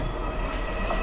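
A Kalyani Simanta local train rushes past on the Dankuni to Sealdah line near Dum Dum, heard from a train halted at a signal: a brief, steady, close rumble of wheels and carriages.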